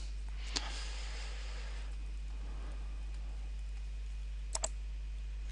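Computer mouse clicks during photo editing in Lightroom 5: a sharp click early on and a quick double click near the end, faint over a steady low background hum.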